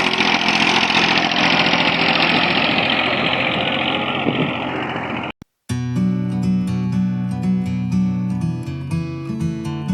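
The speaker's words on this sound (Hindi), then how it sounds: "उसके साथ ज़मीन की तैयारी भी अच्छी होती है और ट्रैक्टर फंसता भी नहीं।" A tractor with iron chains fitted on its tyres runs while preparing farmland: a steady, loud engine drone that cuts out abruptly, after which music takes over.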